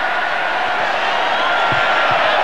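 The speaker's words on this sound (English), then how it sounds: "And the crowd really roaring themselves hoarse as this intruder causes plenty of entertainment here." At a Lions versus Australia rugby test match in 1989, a stadium crowd roars in a steady, loud, broad wash that stays constant throughout, with a few faint thumps underneath.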